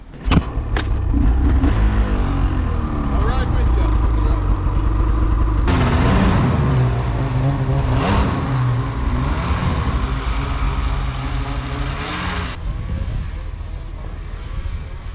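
A snowmobile engine running steadily as a rider sets off after a blizzard, a loud sustained drone that rises and shifts in pitch as the machine moves.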